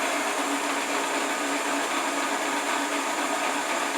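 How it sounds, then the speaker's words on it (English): A Shopsmith woodworking machine runs steadily while making a cut, giving a continuous, even, high-pitched whine with a bright hiss. It sounds close by, and no one speaks over it. "And this is what I like about the Shopsmith. Quite easy to duplicate these cuts."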